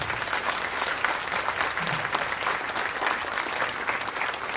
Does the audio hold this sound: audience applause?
yes